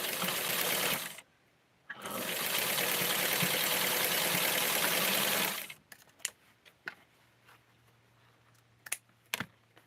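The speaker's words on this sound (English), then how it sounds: "And now I'm going to sew all the way down to keep this" Sewing machine stitching down a lace ruffle on a doll dress, a loud steady mechanical whir in two runs with a short pause, then stopping and leaving faint clicks and handling noises.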